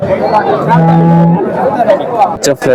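A Jersey cow gives a loud, drawn-out moo close by at a cattle market in Chintamani, with murmuring voices and crowd chatter around it.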